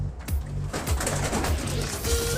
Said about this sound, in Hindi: ये कबूतर देखें